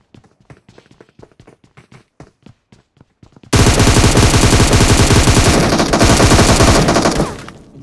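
Vector submachine gun in PUBG Mobile unleashes a loud, sustained full-auto burst of about four seconds, preceded by quieter scattered footsteps or taps, then abruptly stops.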